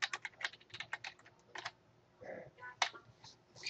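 Password typed on a computer keyboard while setting up Arch Linux, a quick run of close, crisp key clicks in an uneven rhythm with a brief pause partway through.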